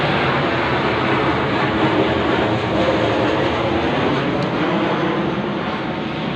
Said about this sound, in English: And there's the plane over my head.